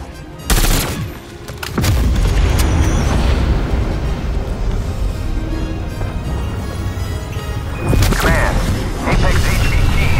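A strike explosion in Call of Duty: Cold War Zombies erupts with a loud boom and a dense roar of gunfire and blasts lasting several seconds. A second burst flares near the end, and game voices surface in between.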